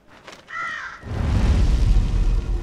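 A crow caws once in the video game Asgard's Wrath, a harsh mid-range call. A broad, rumbling wash of wind-like noise then rises and carries on to the end.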